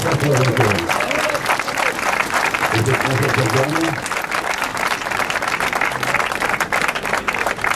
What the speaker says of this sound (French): Vous applaudissez Jean-Pierre Dick, s'il vous plaît.